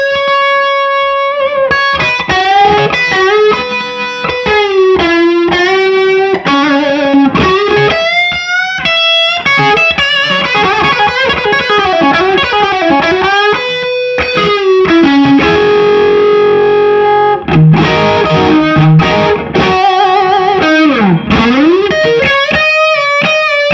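Electric guitar through a Klon overdrive pedal, loud and close: a continuous driven lead line with bends, slides and sustained notes, thick with distortion and effects and no talking.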